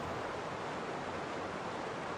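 Steady rushing water of a river in the video game Heaven's Vault, a continuous broadband wash with no breaks, fairly loud and alone without any voices.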